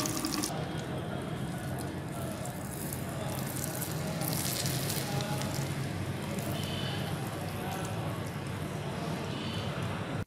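Hot melted butter poured over steamed chicken, giving a steady, even hiss and sizzle that runs without break at low level, with faint background noise and no clear talk.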